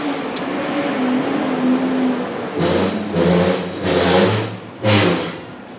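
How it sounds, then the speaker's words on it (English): Garbage truck passing outside in the early morning: a steady idling rumble gives way to loud, surging bursts of engine revving and heavy mechanical roar as it moves by nearby. "garbage truck about to go by."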